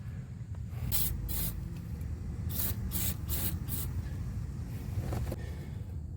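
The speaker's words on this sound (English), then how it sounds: "Spray this down with penetrant oil" Several hissing bursts of penetrating oil from an aerosol can, some short and some sustained, sprayed close by onto suspension bolts of a 2011 Ford Edge over a steady low engine-like rumble.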